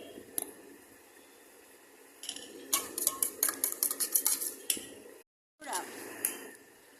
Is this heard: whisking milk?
yes